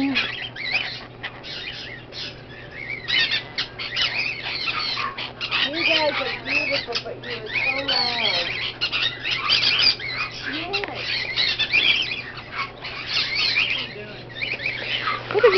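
A parrot in a pet shop lets out harsh squawks and chattering calls through a busy background, repeated in bursts over the whole stretch.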